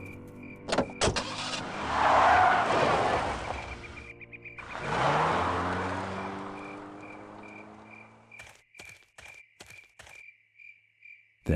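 A car in the adventure game Full Throttle Remastered starts and pulls away, its engine rising and swelling twice before fading, followed by sharp clicks and short knocks, with a steady insect-like chirp running underneath.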